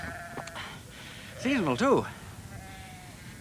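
Sheep bleating on a cold morning near a bog at a racing event, two wavering bleats close by in the middle, with someone speaking briefly before them.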